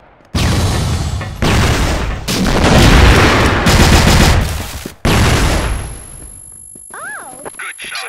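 Sniper rifle shots in a first-person shooter match, a few loud, sharp cracks with booming tails at a close distance. Chatter and radio callouts sit between and around the shots.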